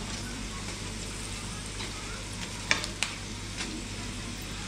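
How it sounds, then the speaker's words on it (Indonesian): Pork skin crackers (kerupuk kulit babi) deep-fry in hot oil, a loud, dense, continuous sizzle with a low steady hum beneath. A couple of sharp clinks from stirring stand out near the middle. "Jadi biar crispy-nya dapat, terus kita goreng, terus saya goreng."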